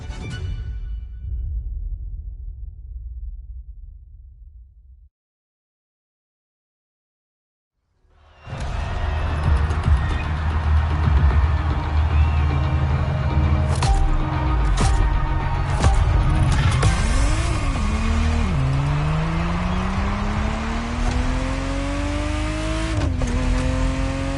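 A Ferrari Testarossa engine drones loud and close in the racing game Motorfest after a brief silent gap, with rising revs, gear-shift dips and a few sharp transient squeals over a steady roar.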